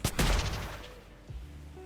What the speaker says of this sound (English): Weathers, fire the blue flare, please.